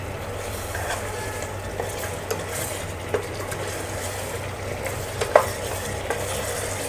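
Mutton frying with spices in a cooker sizzles steadily, while occasional scraping and clinks from a spoon stirring it sound up close, and no one speaks.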